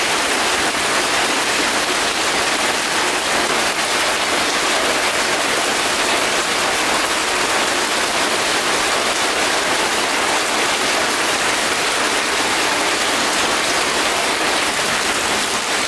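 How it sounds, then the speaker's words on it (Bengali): Heavy rain pours steadily onto a tin roof, a dense, even hiss and patter that holds at the same loud level throughout with no pauses. "টিনের চালে পানি পড়ে, শব্দটা কি সুন্দর আসছে।"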